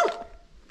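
A single short bark from a dog near a picnic area on a mountain bike trail, sharp at the start and quickly fading into quiet outdoor background.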